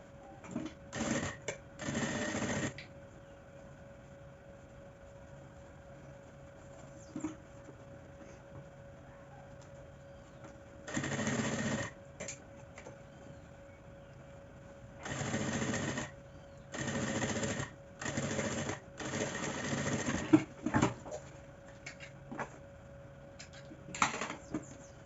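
A domestic sewing machine stitches a small baguette bag's lining to the zipper and main fabric in several separate bursts of rapid mechanical whirring, with short pauses between runs.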